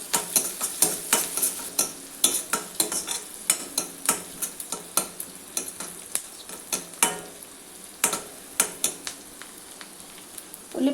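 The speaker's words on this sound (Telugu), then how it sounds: "ఒకసారి కలుపుకోవాలి." Onions frying in a pan with a pinch of turmeric for bottle gourd curry, stirred repeatedly: crisp scraping strokes in a quick, irregular rhythm over a continuous close sizzle, with no one speaking.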